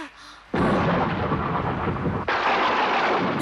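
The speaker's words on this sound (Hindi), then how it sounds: "बिजली चमक रही है। बादल भी गरज रहे हैं।" Thunder during a rainstorm in a Hindi-dubbed Ninja Hattori cartoon episode bursts in suddenly and loudly, then a second crack hits moments later, both rolling into a sustained heavy roar.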